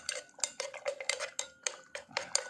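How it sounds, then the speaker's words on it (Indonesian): Repeated clinking taps of a utensil against a container as a mixture is stirred while treating cuisine wastewater, a quick irregular rhythm of bright metallic knocks, close and clear with no talk. "Sebisanya ini ya, diaduk-aduk."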